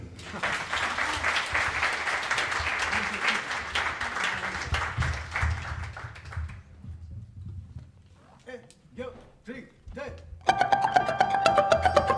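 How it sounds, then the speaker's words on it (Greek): Concert audience at the Athens Megaron applauding the orchestra, a broad wash of clapping that fades away, followed by a few isolated sounds and then the start of music. "Ένα χειροκρότημα για την ορχήστρα."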